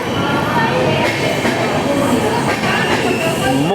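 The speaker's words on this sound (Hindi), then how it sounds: "जंक्शन के प्लेटफॉर्म नंबर 2 पे आ चुकी है मुंबई और हावड़ा के बीच में चलने वाली हावड़ा मुंबई गीतांजलि सुपरफास्ट एक्सप्रेस" Howrah–Mumbai Gitanjali Superfast Express rolling into platform 2 of a junction station, a steady broad rumble of wheels and carriages with faint squeals, continuous throughout with a voice talking over it.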